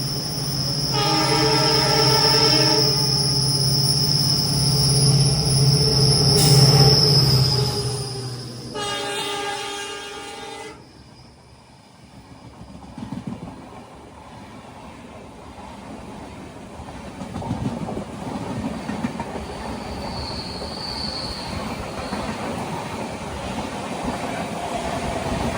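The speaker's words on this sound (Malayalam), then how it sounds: "പഞ്ചഗംഗ എക്സ്പ്രസ് ഇതാ കടന്നു വരികയാണ്." A diesel locomotive hauling the Panchganga Express sounds two long, loud horn blasts while approaching in light rain, then its rumble and rhythmic wheel clatter roll past and fade, with a faint squeal near the end.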